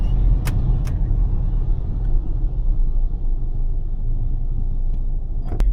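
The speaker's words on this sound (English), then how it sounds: "So I'm getting through this horrendous traffic." Heavy city traffic on Atlanta streets, a steady low rumble of car and bus engines close by with brief passing swells, no voices.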